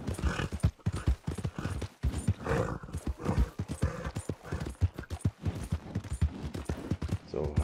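Horse hooves clip-clop in a quick, steady riding rhythm in the video game Red Dead Redemption 2, close and prominent throughout with no talking.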